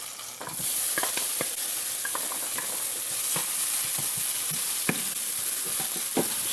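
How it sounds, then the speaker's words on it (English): Peppers frying in hot oil for a fisherman's stew, a loud continuous close sizzle with scattered pops and crackles throughout, no voices. "See our pepper bouncing around there in that hot oil"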